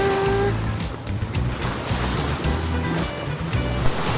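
Sea waves roll in steadily at a seashore, a loud continuous surf wash with rumbling low swells and hissy spray, with no voices.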